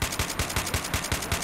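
Rapid automatic gunfire from the video game S.T.A.L.K.E.R.: Call of Chernobyl, a tight burst of about eight evenly spaced shots rattling off at a quick steady rhythm, moderately loud and up close with no speech.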